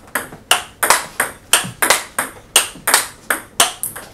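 A table tennis ball strikes a paddle with V>15 Extra rubber in a steady rally, giving about a dozen sharp, bright pings at a brisk regular rhythm, close and clear.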